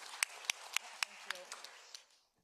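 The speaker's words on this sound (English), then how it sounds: "I would like to, everybody give them a big round of applause" Audience applause for the first panel at a conference on the global fire community, a sparse run of distinct claps spread across the room that quickly fades out into silence.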